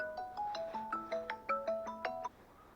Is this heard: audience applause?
no